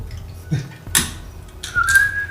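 A person whistles a short rising note near the end, after a few soft knocks and scrapes in a quiet room.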